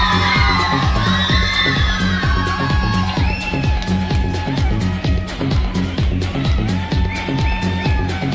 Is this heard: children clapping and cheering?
yes